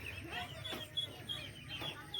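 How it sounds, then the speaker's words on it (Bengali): A native white hen clucking while laying an egg, a series of soft, irregular clucks and short calls at moderate distance, fairly faint against a quiet farmyard background. "দেশি মুরগি ডিম পাড়ছে"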